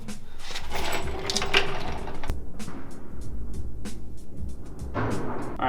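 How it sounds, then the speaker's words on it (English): An impact wrench runs sway bar bolts in on a 2023 vehicle, giving a rapid rattling hammer pulse that chatters steadily for several seconds amid shop clatter. "we're just gonna use an impact to run these four bolts in"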